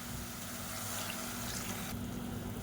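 Water is poured into a tomato mixture cooking in a pan for a Tamil side dish, heard as a steady close hiss and trickle of liquid that runs throughout with no talk.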